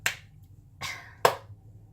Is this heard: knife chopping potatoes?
no